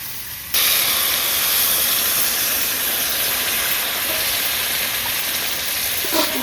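Water is added to a hot pan of fried potatoes and pointed gourd, setting off a sudden loud hiss that holds as steady, sizzling steam for several seconds.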